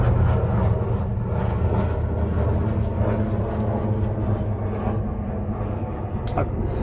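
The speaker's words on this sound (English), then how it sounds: "let the helicopter go over. You can hear that" A helicopter drones overhead, a continuous low throbbing hum that stays fairly loud throughout.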